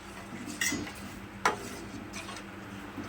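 A spoon scrapes and clinks against a cooking pot as a thin mixture is stirred to keep it from catching on the bottom, with two sharper knocks standing out over a quiet, steady background.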